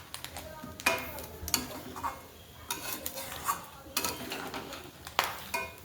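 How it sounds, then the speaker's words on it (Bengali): Crab being stirred with masala in a pan, giving soft scraping and clinking strokes of a spatula against the metal at irregular intervals, close and fairly quiet, with light sizzling beneath. "ভালোভাবে নাড়িয়ে নেব।"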